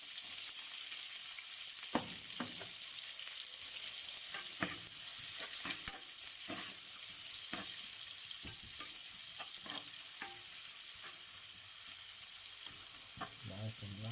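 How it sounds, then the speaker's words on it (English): Onions frying in hot oil for chicken biryani, a loud continuous sizzle with occasional sharp stirring scrapes and clinks close by. "so I'm gonna add the onion"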